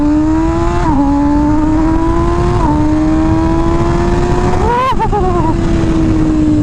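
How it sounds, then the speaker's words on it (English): MV Agusta Rush motorcycle engine pulling hard through the gears, a loud steady near drone rising in pitch with brief dips at each shift, plus wind roar throughout and a sharper rev near the end. "Alright, this is a very fast bike."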